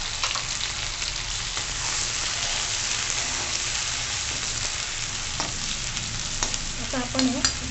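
Ground spice paste with red chili powder and turmeric fries in hot oil for a chana and drumstick masala, giving a steady close sizzle with occasional stirring scrapes that grow busier near the end.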